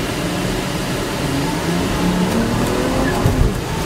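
A Volvo S80 T6 Executive accelerates at part throttle, a loud, steady engine roar with road and wind noise heard from inside the cabin, with no voices.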